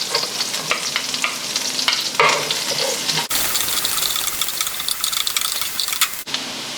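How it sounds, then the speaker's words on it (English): Onions sautéing in a pan give a steady close sizzle, with stirring scrapes and clicks on top of it and a short pause midway. "first step is to saute your onions"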